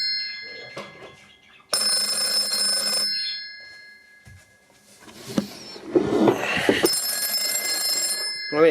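An old mechanical PMG telephone bell rings in two bursts of rapid metallic clatter, close and loud, with a pause between rings.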